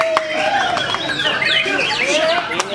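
White-rumped shamas sing at a bird contest, loud varied whistles and chirps layered over each other above a murmuring crowd and nearby talk.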